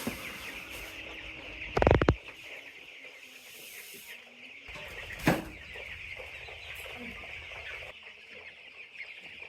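Twelve-day-old broiler chicks peep in a constant high chorus as they are fed at night, with two loud rattling bursts from feed being poured and a few faint knocks.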